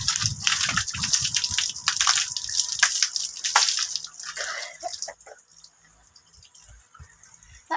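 Water gushes loudly from a tap for about five seconds as a vessel fills, then cuts off and leaves quiet, faint sounds.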